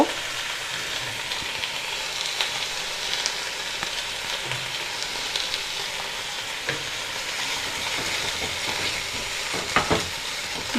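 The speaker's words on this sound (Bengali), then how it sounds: "তো এবার এটা ভালো করে কষাবো যতক্ষণ না আদা রসুনের গন্ধটা মরে যাচ্ছে" Ginger-garlic spice paste sautéing in a pan for Bengali dhaniya chicken, a steady sizzle broken by intermittent scraping stirs, close and moderately loud, no voices.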